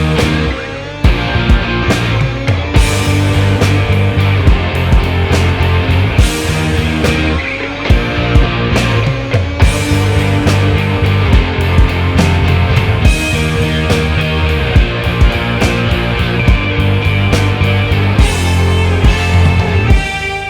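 A remake of a song plays as a loud, full instrumental with steady driving beats and layered sustained chords throughout.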